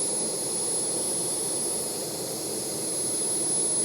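A Sea King helicopter engine runs steadily, giving a loud, continuous turbine roar with a broad rushing hiss and a thin high whine on top, unchanging across the few seconds with no voices.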